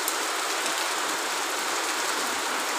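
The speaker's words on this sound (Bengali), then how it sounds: "বিশাল বৃষ্টি যাকে বলে" Heavy rain falls outdoors in a steady, dense hiss that stays even and unbroken from start to finish, with no talking.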